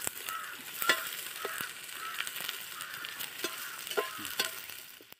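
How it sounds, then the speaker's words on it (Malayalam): Onions sautéing in oil in a pan, a soft continuous sizzle punctuated by regular spatula taps and scrapes against the pan, close up and unaccompanied by speech. "ഇതൊന്ന് വഴറ്റി കൊടുക്കുക."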